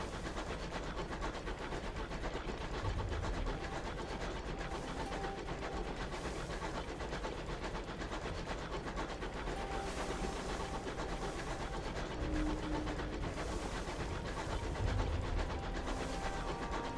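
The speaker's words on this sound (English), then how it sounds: "A Takoti engine." A Takoti locomotive engine in the video game Sunless Skies chugs with a steady rumbling rhythm, a continuous mechanical drone with low thumps, heard alone without talk.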